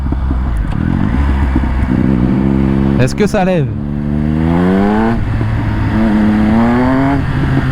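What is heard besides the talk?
Triumph Speed Triple 1200 RS motorcycle accelerating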